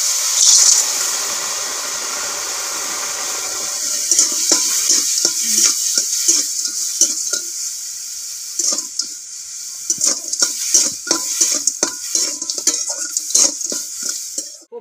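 Water goes into a sizzling crab curry in a pan, with a loud steady hiss and sizzle followed by scraping stirs and spoon clinks against the pot, close by, no voices.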